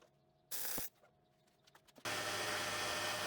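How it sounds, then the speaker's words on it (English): Metal handle for a spin indexer being cut to a 5-degree taper on a machine, a loud steady broadband whir running alone in two bursts, the second sustained to the end. "I'm cutting a 5-degree taper on here just for aesthetics"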